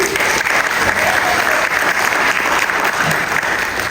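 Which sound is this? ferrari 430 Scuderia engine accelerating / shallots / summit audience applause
summit audience applause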